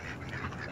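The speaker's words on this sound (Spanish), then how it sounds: "aquí están mis patos" Ducks quacking together in a dense, continuous flock chorus, close and moderately loud, with the calls overlapping throughout.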